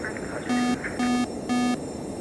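An engine limitation alarm in a home-built flight simulator cockpit sounds three evenly spaced, loud, steady electronic buzzing tones, each about a quarter second long, over cockpit fan hum.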